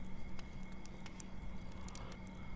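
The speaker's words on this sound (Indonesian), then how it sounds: "Ini suara api unggun." Steady crackling and sharp pops of a campfire over a constant low rumble, close and moderately loud with no talking.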